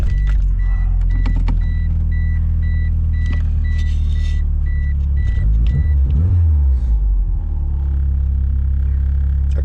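Small motors of a Tein EDFC electronic damper controller whir inside a car, a faint intermittent rhythmic beeping-whine over a steady low engine rumble, with no talk.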